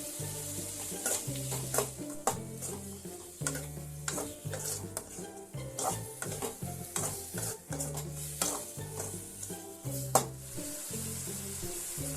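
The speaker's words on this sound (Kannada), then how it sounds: "ಹೆಚ್ಚಿದ 3 ಟೊಮೊಟೊ ಹಾಕಿ ಫ್ರೈ ಮಾಡಿ." Chopped onion and three tomatoes sizzle steadily in a pan while a spoon stirs and knocks against it in frequent clinks; close, moderately quiet, continuous frying throughout, with faint background music and no talking.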